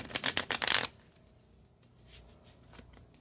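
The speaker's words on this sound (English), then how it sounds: "It's so weird to shuffle my deck like this because I'm so used to doing it the other way." A tarot card deck being shuffled up close, a quick burst of riffling card flutters in the first second, then a few soft card taps and rustles at low level.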